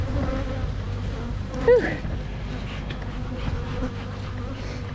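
Honey bees drone in a dense, steady buzz right at an open hive, close and loud throughout, with one brief exhaled breath from a person partway through.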